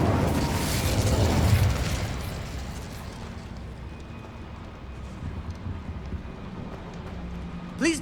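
In Hogwarts Legacy, the fire spell Incendio bursts with a loud roaring whoosh of flame, then fades into a crackling, rumbling tail over several seconds, ending with a brief sharp effect.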